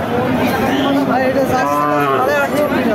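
Cattle mooing at a busy rural livestock market in Chaugachha, Bangladesh, where thin, bony cows are sold; a long, loud harmonic low over constant crowd chatter and background voices.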